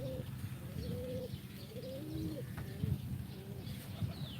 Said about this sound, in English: there's 2 or 3 pigeons around here.